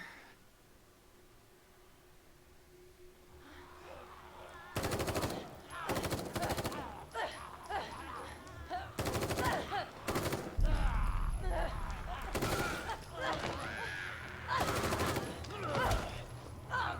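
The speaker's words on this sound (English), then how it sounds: "That rifle should be out of ammo by now." Rifle gunfire in The Evil Within 2 video game: after a quiet start, several loud bursts of rapid automatic shots crack out in clusters with ambient game noise between them.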